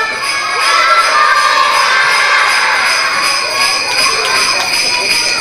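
Crowds of children call out loudly for Santa Claus at a Christmas event, a sustained wash of shouting voices with bright jingling tones and music running through it.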